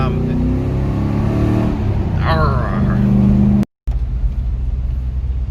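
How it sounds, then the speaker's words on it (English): A V8 engine in a Nissan D22 Navara ute rumbles steadily while cruising, loud and close, with a voice talking over it before a brief cutout. "so lads are cruising the main in the big V8 Ute"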